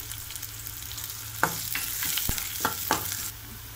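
Oil crackling and sizzling steadily in a pan as chopped onions and green chillies fry, with a few sharp spatters and stirring scrapes over a constant frying hiss.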